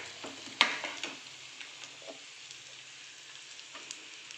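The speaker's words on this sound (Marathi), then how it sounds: "याला चांगलं मिक्स करून घ्यायचं आहे आपल्याला" Crumbled chapati being stirred in a frying pan with chilli powder, giving a soft, steady sizzle with light scraping taps of the spatula throughout, one sharper clink near the start.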